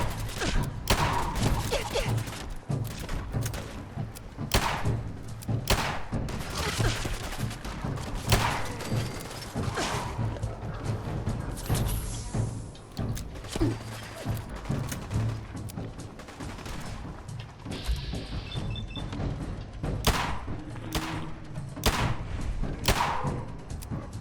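Gunfire from a weapon in Fallout 4, heard as repeated sharp bursts and thuds spread irregularly across a busy game soundscape, fairly loud, with occasional gaps and faint background effects.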